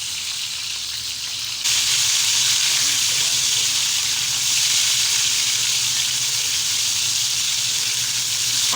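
Seekh kababs fry in a pan over medium heat, giving a loud, steady sizzle and hiss that jumps louder after a quiet first second or two and then holds.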